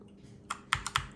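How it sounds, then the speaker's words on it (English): A magnetic gaming keyboard, an Acer Predator Aethon 500 or HP Pavilion Gaming Keyboard 800, gives four sharp, close key clacks in quick irregular succession after a faint hum. "Magnetic keyboard."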